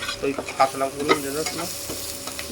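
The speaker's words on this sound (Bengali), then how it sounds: "জিরেটা একটু ভাজা ভাজা হয়ে গেলে মশলাটা দিয়ে দেব।" Cumin seeds fry and crackle in a pan while a spoon stirs them in steady scraping strokes, close and moderately loud with no talking.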